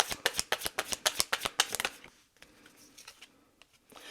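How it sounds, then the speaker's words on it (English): Tarot cards are shuffled close by in a quick run of crisp riffling flutters for about two seconds, then a few softer, scattered card sounds. "We'll see what comes out in the cards. 3 cards to start with."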